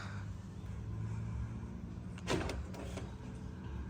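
The door of a 2001 Isuzu Panther LS automatic swings shut with one dull thud followed by a couple of lighter knocks, heard over a steady low background rumble.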